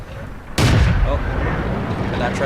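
A tank gun fires in the video game World of Tanks, a sudden loud, sharp blast that rolls into a rumbling, fading echo, with someone talking after the shot.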